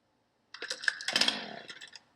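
A chainsaw cuts into ice in Deadly Premonition 2, starting abruptly after a short silence and then whining and rasping steadily for under two seconds.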